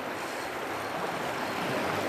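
Fast-flowing water on the Colorado River, an even, dense rushing wash that stays steady throughout with no pauses, heard close and alone.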